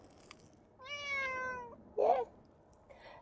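A cat meows twice up close, one long drawn-out call followed by a shorter, rougher meow, in a quiet outdoor graveyard with a brief word spoken nearby.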